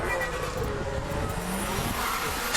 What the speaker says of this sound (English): Hear the blow-off valve blowing.